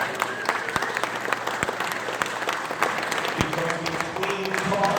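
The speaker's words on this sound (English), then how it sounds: "Give yourselves a round of applause." Guests at a car museum unveiling event clap for several seconds, a moderate crowd applause with distinct individual claps and a few murmured voices underneath.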